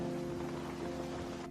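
Steady rainfall, a continuous even wash of drops with a faint low rumble beneath, no one speaking.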